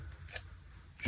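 Scissors cut paper close by, a couple of soft crisp snips separated by quiet, with no talking.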